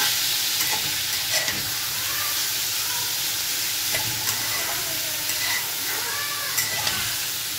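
Whole garlic cloves fry in hot oil with a steady, close sizzle and hiss that runs throughout, broken by a few light stirring clicks and taps.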